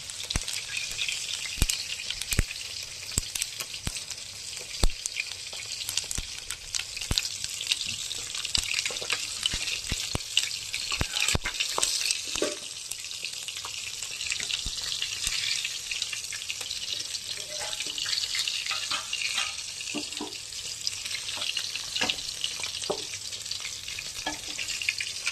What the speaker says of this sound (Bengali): এখানে তেল গরম হতে দিয়ে দিয়েছি, আপনাদেরকে দেখাচ্ছি কেমনভাবে কচুর ডালে সম্বার দিয়ে আমি জিরে শুকনো লঙ্কা ফোড়ন